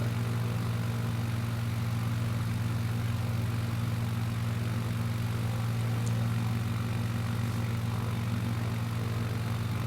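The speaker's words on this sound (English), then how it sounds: "I think we'll just cut our engine a little bit." A propeller aircraft engine in Microsoft Flight Simulator 2020 drones steadily at throttle during a landing approach with flaps set, a constant loud hum heard alone without talk.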